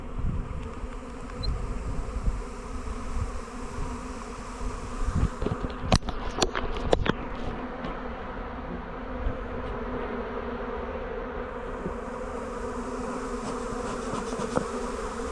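A dense, continuous buzz of many honey bees close by, nesting in a garden ornament, with a few sharp knocks partway through and the hum carrying on steadily.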